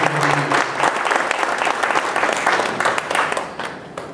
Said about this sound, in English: I would like for us to collectively appreciate them by giving them a round of applause